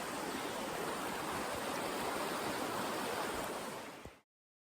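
A creek beside the Appalachian Trail rushing steadily in a broad, even hiss of flowing water, close and continuous with no voices, cutting off abruptly at the end.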